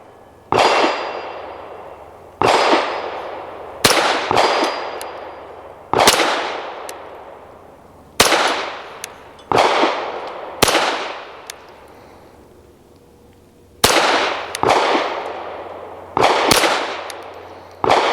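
A Hammerli Forge H1 .22 pistol fires about a dozen sharp, loud shots at a distant small target, spaced irregularly with short ringing decays and a longer pause midway; no one speaks.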